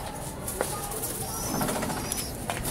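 Pigeons coo softly at a rooftop pigeon loft, their low murmurs nearly buried under a constant broadband background hiss, with a few brief clicks.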